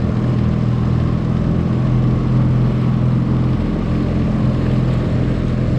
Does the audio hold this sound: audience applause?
no